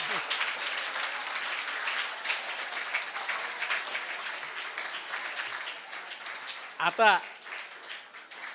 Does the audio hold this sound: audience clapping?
yes